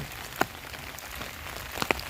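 Rain falls in a park in winter, a soft steady patter with a few distinct drops striking nearby surfaces, faint and without voices.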